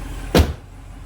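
The door of an Audi S6 slams shut once, a single close, solid thud standing alone against a quiet background.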